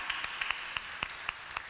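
An audience at a conference in Ragusa gives scattered, sparse hand claps, quiet and fairly distant, as a bank director general is welcomed onto the stage.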